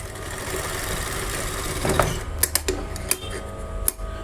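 A sewing machine runs steadily while stitching along the top of a double-folded collar strip for a blouse, giving a close, continuous mechanical whir with a few sharp clicks near the end.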